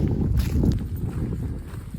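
Strong wind buffets the microphone outdoors on the Appalachian Trail in cold 33-degree weather, with a low, rumbling gusty roar that rises and falls throughout.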